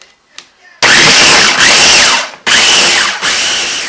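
An electric mixer whirs loudly through vanilla ice cream ingredients in a bowl, starting abruptly after a quiet moment, briefly cutting out, then running on in close, steady bursts with slight pitch dips as the beaters work the mix.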